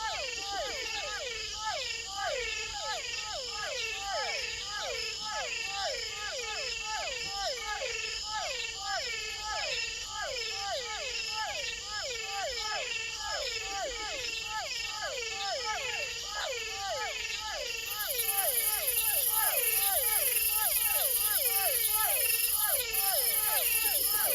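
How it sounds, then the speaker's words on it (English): A dense night chorus of many frog species pulses in rapid, regular croaks, with a myriad of insects buzzing and shrilling steadily above; a louder, high insect whine joins near the end. "many different types of frogs at lower frequencies and a myriad of insects at higher frequencies"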